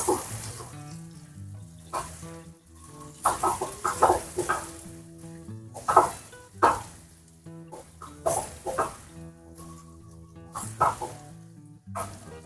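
Sliced onions sauté in oil left over from frying chicken for biryani, with a steady close sizzle broken by repeated bursts of stirring and scraping in the pan, loud and continuous with no speech.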